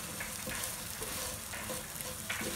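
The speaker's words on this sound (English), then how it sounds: "Some salt, okay, just a bit, 3/4 teaspoon, stir well." Raw banana and coconut palya stirred in a frying pan, with a soft continuous sizzle and scraping strokes of the spoon repeating every half second or so, close and moderate in level.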